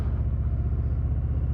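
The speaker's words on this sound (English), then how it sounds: "let's do an acceleration test" A Harley-Davidson Revival Hydra Glide motorcycle rolls on in second gear. A deep, loud, pulsing engine rumble throbs steadily and close throughout, with no voices.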